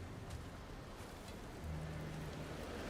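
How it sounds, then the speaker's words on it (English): Steady rain falling in the video game Valheim, a soft continuous hiss with faint low rumbling, quiet and even throughout with no talk. "It's back to fucking raining."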